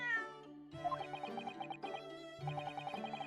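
A cat meows in The Great Ace Attorney Chronicles over light game music, two or three short close meows followed by a repeating chime-like melody.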